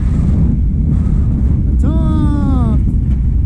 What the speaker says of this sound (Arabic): الريح يضرب مع القبار